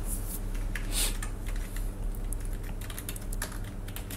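Fingers type on a computer keyboard while code for an Excel VBA login form is entered, a close and steady patter of key clicks with a few louder strikes, and no one speaks.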